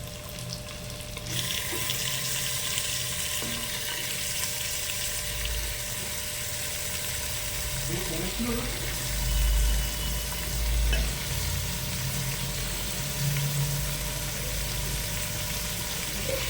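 Chicken and onions fry and sizzle steadily in a pan, with occasional stirring and scraping sounds and a few low thumps.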